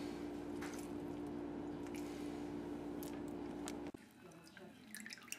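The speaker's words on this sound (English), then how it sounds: "Now we drain the beet juice out of the beet can" Beet juice drained from a can during preparation of a Latvian-style beet salad, a steady wet pouring and trickling wash that runs evenly, then cuts off abruptly near the end, leaving quieter faint drips and handling noises.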